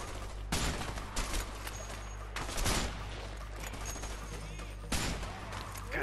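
Gunfire booms in the video game A Way Out as several heavy, loud blasts spaced a second or two apart, set against steady low background rumble and game noise.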